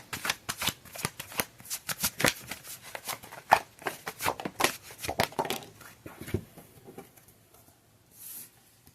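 A deck of tarot cards gets shuffled close up, with crisp repeated flicks and riffles in quick bursts that thin out toward the end.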